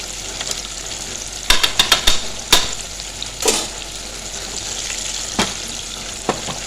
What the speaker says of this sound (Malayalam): എണ്ണയിലിങ്ങനെ ഇങ്ങനെ മുങ്ങി കിടക്കണം